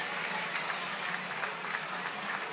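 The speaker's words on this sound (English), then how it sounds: "Big round of applause for Jen and Andy." A gala crowd at a Myocarditis Foundation fundraiser claps for Jen and Andy, a thick, continuous roomful of hands, moderately loud and even throughout the short stretch, without speech on top.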